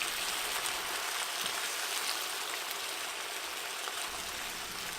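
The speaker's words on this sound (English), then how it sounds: "I'm going to add the sauce, that mixture of mirin and soy sauce and vinegar" Mirin, soy sauce and vinegar sauce reducing in a pan with tofu and shiitake mushrooms, a steady soft bubbling sizzle like light rain, constant and close with no talking.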